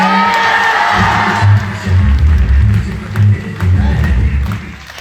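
A live audience in a talk hall claps and cheers loudly, with several bursts of whoops and shouting over continuous applause.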